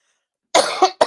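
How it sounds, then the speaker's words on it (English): A person coughs up close, a loud harsh burst followed by two more quick coughs after a moment of silence. "I'm coughing"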